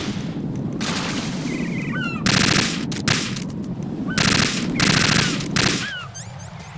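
An AK rifle fires in the PS2 stealth game Metal Gear Solid 2: Sons of Liberty, several loud sharp automatic bursts separated by short gaps, with faint chirps between them.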